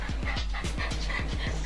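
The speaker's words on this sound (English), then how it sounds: "He's the family dog." A family dog pants close up in quick, steady rhythmic breaths with faint whimpering, loud and continuous over a short stretch with no one talking.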